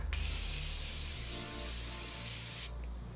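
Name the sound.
setting spray misted onto face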